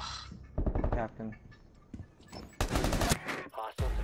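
Bursts of automatic gunfire from the video game Rainbow Six Siege, several loud sharp volleys in quick succession with voices talking between and over them.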